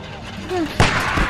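A single sharp, loud sniper rifle shot rings out in The Walking Dead video game, cutting through quiet background ambience after a brief vocal sound.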